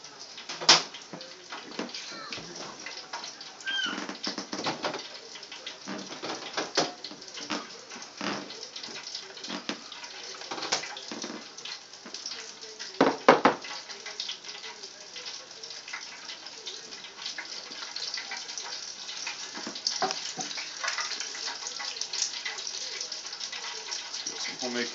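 Potato-crusted pollock fillets deep-frying in hot oil, giving a steady, close, dense sizzling hiss peppered with sharp crackles and pops that carries on without a break throughout.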